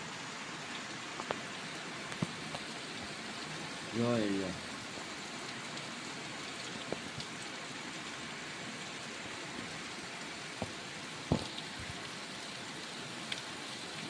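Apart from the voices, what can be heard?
heavy rain falling on a farm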